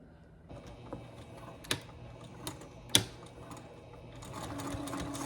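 A sewing machine stitches down the edge of a strap, starting with a few sharp isolated clicks and then settling into a quicker, continuous mechanical chatter near the end.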